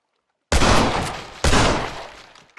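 Gunfire in the video game Red Dead Redemption: two loud, close blasts about a second apart, each with a long rumbling decay, after a moment of silence.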